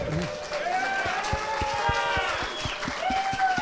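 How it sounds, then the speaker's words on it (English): Live audience at a Bad Voltage show at the SCaLE 15x conference applauds for Hannah, with scattered, distinct claps mixed with whoops and cheering voices. "Big round of applause to Hannah."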